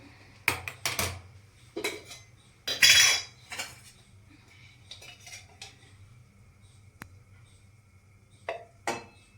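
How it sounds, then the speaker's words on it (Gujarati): A flat iron griddle pan (tava) set on a gas stove, with several sharp metallic clanks and scrapes, close and fairly loud, separated by quiet pauses. "તવી મૂકીશું।"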